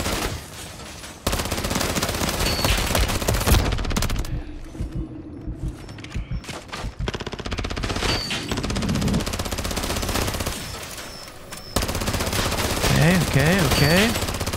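Sustained automatic gunfire from Modern Warfare Zombies roars loud and dense, broken by short lulls and mechanical clanks, with a brief electronic warble near the end.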